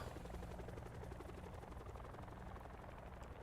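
Inside a helicopter in the video game Black Ops Cold War Zombies, a steady, faint rotor and engine drone fills the background continuously with no talk.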